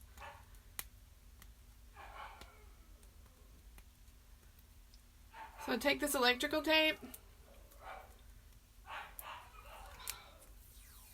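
Several dogs barking indoors in a craft workspace, a loud burst of overlapping barks partway through with a few shorter bursts around it, while a person talks over the commotion.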